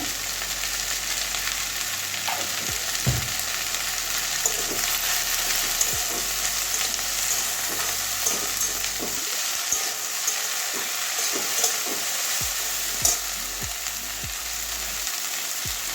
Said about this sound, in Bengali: এখানে জল ঢালবো না আর জল ছাড়াই ভাজবো